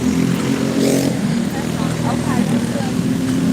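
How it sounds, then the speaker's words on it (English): Go-kart engines drone and rev steadily in the background during a race practice session at a short track, loud and continuous, with a person talking over them. "the noise you're hearing in the background is them doing practice right now."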